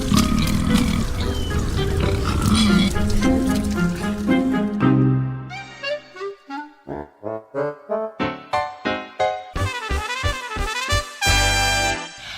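Pig grunts and squeals repeat in a rapid series of short bursts, following a stretch of noisy, churning sound.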